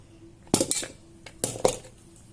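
A metal lid set onto a pot holding wheat biscuit dough, giving two close, sharp clinks, each followed by a quick rattle as it settles.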